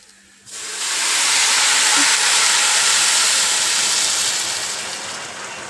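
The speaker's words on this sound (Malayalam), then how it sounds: "ഇതിനകത്ത് തേങ്ങാപ്പാലാണ് നമ്മൾ ഒഴിച്ചു കൊടുക്കുന്നത്" A loud, steady rushing hiss begins after a brief quiet moment and holds as coconut milk is poured into a hot pan for coconut rice, with no voices.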